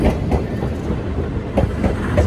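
An Oigawa Railway train passes through Goka Station, rumbling steadily with a rhythmic clatter of wheels over the rails and a continuous low roar throughout.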